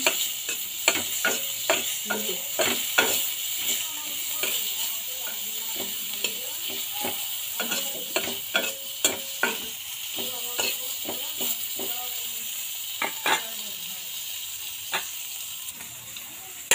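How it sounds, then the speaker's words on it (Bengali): Dried bamboo-leaf fish frying and being stirred in a pan for a mashed fish dish, with a steady sizzle broken by a string of sharp scraping clicks and taps from the spoon throughout, close and moderately loud with no talking. "শুটকি ভালো ভেজে"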